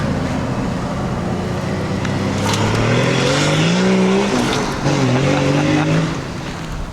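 A Ford Ranger pickup engine revs loudly up and down through the gears as the truck drives, close and continuous, easing off near the end.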